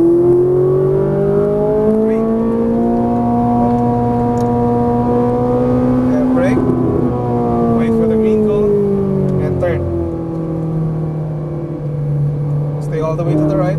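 A Ferrari 458 Italia on a track runs its engine with steady, loud harmonic drone that rises and falls in pitch as it accelerates and eases, with an instructor's voice speaking over it.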